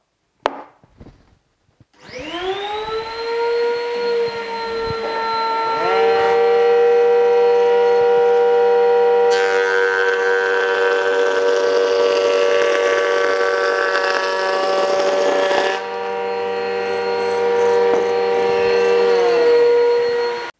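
A jointer-planer motor starts up into a steady whining hum. Midway, a harsh, louder roar of the blades planing the face of a wooden board cuts in, lasts several seconds, then stops, and the motor keeps running.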